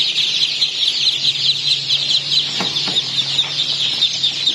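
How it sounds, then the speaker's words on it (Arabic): Two-day-old Muscovy ducklings gathered at food and water give a dense, continuous chorus of high, shrill peeping close by, with a faint low hum underneath. "في بط مسكوفي عمره يومين جوه على الاكل وميه"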